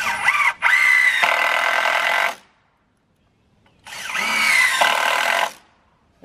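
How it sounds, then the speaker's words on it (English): A power driver runs GRK structural screws into wood during garage roof framing, two loud sustained whirring bursts a couple of seconds each with a near-silent pause between them, close up. "we're using some GRK structural screws here. Love those, they go in nice and easy."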